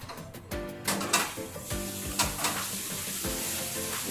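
Used oil from a commercial deep fryer pours through the opened drain into a metal filter, making a continuous close rushing and sizzling flow punctuated by gurgles and light metallic clanks.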